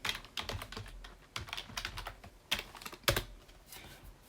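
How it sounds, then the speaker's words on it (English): A web address is typed on a computer keyboard in a quick run of close, crisp key taps in uneven bursts, with no voice over them. "type in skf.com."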